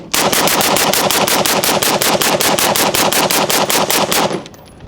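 A SIG Sauer M400 Tread rifle empties a full magazine in a loud, close, rapid string of about twenty evenly spaced shots, then stops abruptly into quiet.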